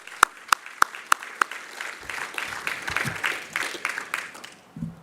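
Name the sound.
audience applause for sponsors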